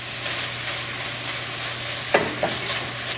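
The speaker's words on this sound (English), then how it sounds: "I have my burner on medium-high. I'll place the half a cup of brown sugar." Half a cup of brown sugar heats in a pan on a medium-high burner, giving a steady soft sizzle with a low hum, then a couple of brief sharp clinks or stirring scrapes near the end.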